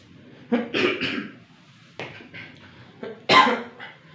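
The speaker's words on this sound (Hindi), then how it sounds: "आज तो इस खांसी ने बहुत परेशान कर दिया है" Several harsh coughs in short bursts, a pair early on, another after a pause, and a louder final one, close to the listener with no talking.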